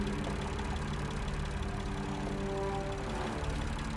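Engine drone from the game Lost Horizon, a steady low idling rumble with faint tonal hum, continuous and moderately loud with no pauses.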